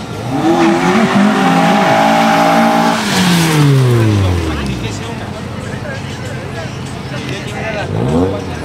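A Nissan Sentra SE-R with an SR20 engine and a BMW 240 drag race at a beach strip in Sinaloa, with loud engines revving and rising through the gears as they pass close, then fading while a crowd chatters.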